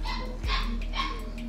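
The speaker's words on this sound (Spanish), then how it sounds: "Ahí están los perritos." Dogs at a municipal animal shelter in Surco bark and yip nearby in short bursts over a low background hum.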